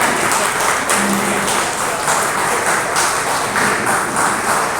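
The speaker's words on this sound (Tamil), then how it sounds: "அனைவரும் கைத்தட்டலாம்" Audience at an award distribution function clapping loudly and continuously, a dense, close wash of many hands with a few sharper individual claps standing out.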